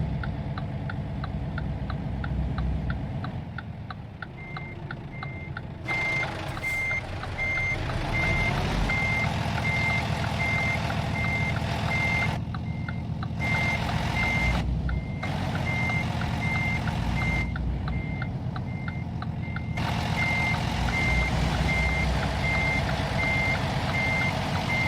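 A truck backing up in American Truck Simulator, steady evenly spaced reversing beeps over a droning diesel engine, with a brief air-brake hiss midway and the beeping continuing after short gaps.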